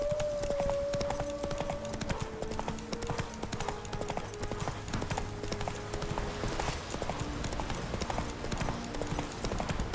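A horse gallops in the video game The Witcher 3: steady, rapid hoofbeats run throughout over game music, with a neigh near the start.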